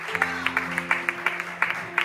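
A church congregation claps in a steady rhythm over sustained, held keyboard tones, the sharp beats evenly spaced and moderately loud.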